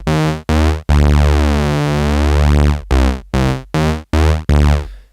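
Detuned sawtooth oscillators on a FAW Circle2 synth form a thick, wavering electro bass with a phasing shimmer, played as short stabs around one long held note in a lively rhythmic pattern.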